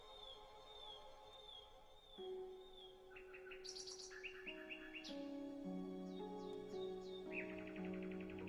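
Birdsong of chirps and trills rings over a sustained orchestral accompaniment, the bird phrases repeating above held chords and rising in density toward the end.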